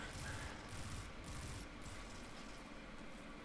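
Gunfire in a shooter video game: a dense, loud burst of rapid shots fills the start, then continues as quieter scattered firing and game noise, with no talk.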